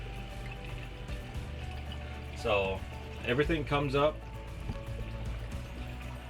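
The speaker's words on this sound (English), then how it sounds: "comes down and pours out here, and it slowly comes through, drains out here." Water pours and drains through a home aquaponics system as a steady trickling flow beneath someone talking.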